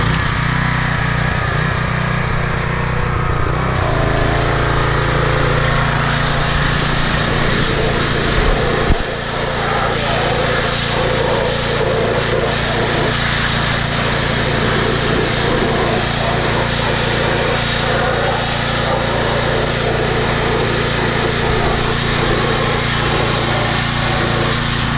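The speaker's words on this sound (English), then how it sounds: "You need the pressure washer." A pressure washer engine runs loud and steady right up close the whole time, a constant droning whine with a shift in tone early on, while aluminum wheels are cleaned.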